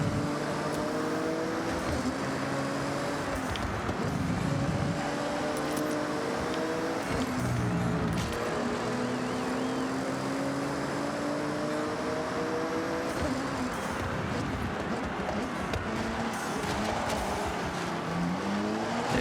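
Car engine in Forza Horizon 6 during a race, steadily roaring and rising through gear changes, with tire noise and a loud, continuous drive and little talk.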